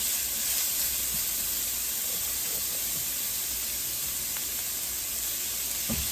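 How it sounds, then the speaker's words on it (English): A handful of cabbage sizzles in a hot pan, a loud steady hiss with faint crackles and small pops close by, continuous throughout. "what I'm going to do now is I'm going to add a handful of cabbage"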